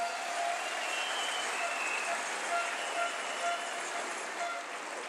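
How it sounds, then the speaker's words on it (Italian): Theatre audience applauding together, a dense, steady wash of clapping that holds at an even level for several seconds without pause. "Facciamo un applauso a questa struttura che merita."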